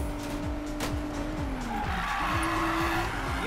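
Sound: car drifting with tire squeal, video game Need for Speed Payback

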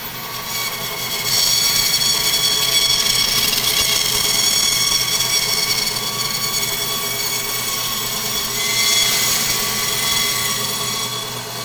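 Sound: saw cutting frozen sample sections

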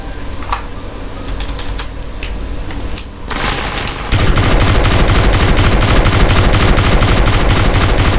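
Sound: gunfire in the video game GTA San Andreas

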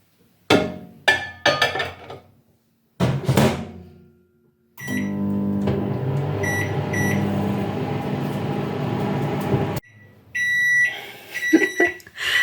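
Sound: microwave oven running

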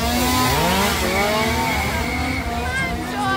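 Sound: chainsaw

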